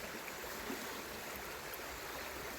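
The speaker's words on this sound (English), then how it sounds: "Now that'll drip through" Water steadily trickling and dripping through a filter bag at an island camp, a continuous close, even rushing wash with no pauses or talk.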